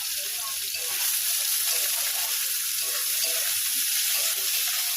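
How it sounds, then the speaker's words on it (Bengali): Onions fry in a pan of hot oil after a tempering of nigella seeds, making a steady, even hiss of sizzling that holds constant throughout. "পেঁয়াজ কেটে রেখেছিলাম, পেঁয়াজটা ভেজে নেব।"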